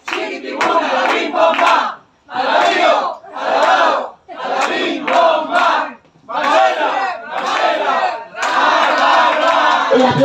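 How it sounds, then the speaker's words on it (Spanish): A party crowd at an adult birthday show chanting and cheering in loud, rhythmic bursts with short pauses between them, a lively chorus of many voices filling the room. "El aplauso más fuerte."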